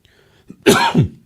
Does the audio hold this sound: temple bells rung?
no